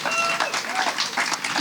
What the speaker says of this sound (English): I think that almost deserves another round of applause for the job that they did.